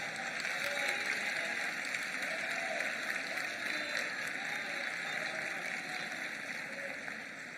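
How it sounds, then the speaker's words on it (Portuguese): A church congregation applauds steadily, a dense continuous wash of clapping heard at a distance and fairly faint, with no talk over it. "Aplauda o Senhor Jesus Cristo."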